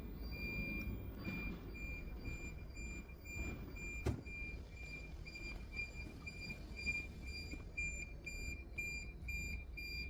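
Steady high-pitched alarm beeps from several Deye solar inverters at a 200 kW solar power plant sound together over a low background hum, with a sharp click partway through.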